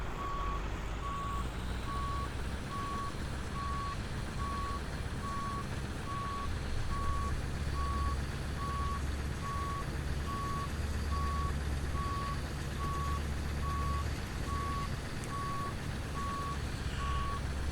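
A truck's reversing beeper in American Truck Simulator, with a Mack Superliner hauling a Siemens 70-ton transformer: a steady chain of evenly spaced beeps over a loud, rumbling diesel engine drone.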